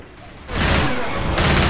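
Rapid bursts of gunfire from the zombie shooter Left 4 Dead 2, a dense, loud fusillade that swells after a quieter start and keeps going to the end.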